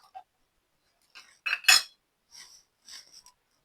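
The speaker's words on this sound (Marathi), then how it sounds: "आपल्याला आता हे लाटून घ्यायचं आहे" Rolling pin working shankarpali dough for a festive snack, heard as a few short soft knocks and scrapes of the pin against the board, with quiet gaps between the strokes and no talk.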